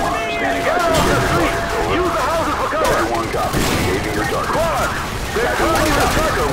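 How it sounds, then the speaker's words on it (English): Modern Warfare 2 game gunfire pours out in dense, loud bursts and rattling volleys, close and almost nonstop. Shouted voices are heard amid the shooting. "Put suppressing fire on that house!"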